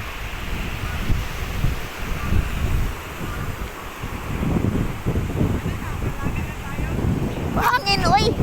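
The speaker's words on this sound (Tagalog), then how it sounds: "Hangin, oy! Hindi kayanin." Strong wind blows steadily across an open outdoor roadside, roaring and buffeting the microphone for the whole stretch, with distant surf-like rushing underneath and a brief voice near the end.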